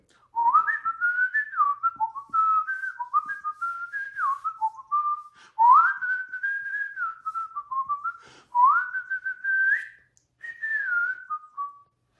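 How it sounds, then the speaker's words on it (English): A person whistles a wandering melody in clear phrases, with short pauses between runs of notes, close and alone. "even if you're good at whistling"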